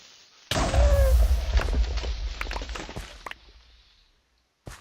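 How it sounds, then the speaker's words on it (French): A small explosion in the Minecraft video game, a sudden loud boom followed by crackling debris that fades over a few seconds, then a brief click near the end. "Une petite explosion"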